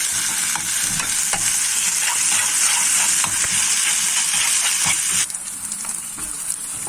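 Coriander sizzles loudly in hot oil for an Egyptian mallow dish, a dense continuous crackling hiss right up close with frequent scraping stirs, easing slightly in volume near the end.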